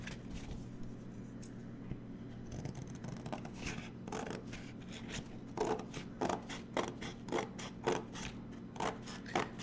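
Snipping and scraping from scissors trimming beading material, a run of short crisp cuts that grow more frequent and distinct toward the end, close and fairly quiet.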